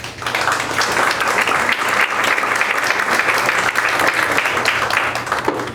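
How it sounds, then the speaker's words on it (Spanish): A conference audience at the ICPNA library applauds warmly to welcome guest speaker Dr. Ricardo González Vigil, a loud, sustained crowd ovation of many hands clapping at once, with no talking heard over it. "a quien recibimos con un caluroso aplauso"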